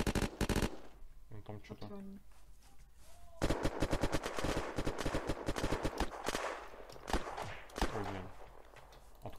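Rapid automatic AK rifle fire in the video game Unturned rattles in several bursts, loud and close, with a player speaking briefly between shots.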